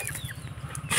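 A chicken clucks in short, close bursts over a low rumbling background, with a brief flutter of noise at the end.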